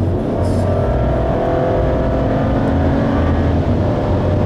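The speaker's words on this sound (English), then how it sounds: "we have a 3-liter 6-cylinder engine in here. I'm not really content with the sound" A 2014 BMW X4 xDrive35i's 3-liter six-cylinder engine idles loudly and steadily, a deep continuous hum with a low rumble and no talking.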